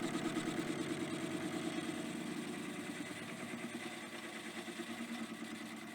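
A lathe taking a light skim pass to face off the ends of a hammer head, giving a steady, close mechanical hum with a fine, even rhythmic chatter that holds throughout and eases slightly toward the end.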